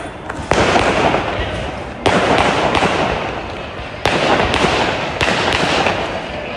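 Fireworks at a Shiva temple festival in Kerala, a run of sharp loud bursts every couple of seconds, each ringing out with a crackling, roaring tail that barely fades before the next blast.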